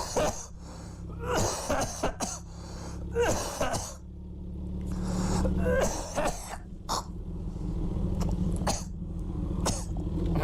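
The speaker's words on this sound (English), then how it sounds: "Why is he coughing a hairball up?" A motorcycle rider coughs and clears his throat in several harsh bursts over a steady low engine rumble, the hacking sounds close and repeated through the first half, then easing into quieter spaced coughs.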